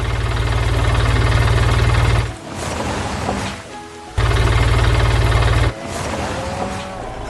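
A heavy machine's engine in a 3D animation of heavy equipment lifting loads runs with a loud, steady, low rumbling drone, dropping away twice into quieter rattling stretches before returning.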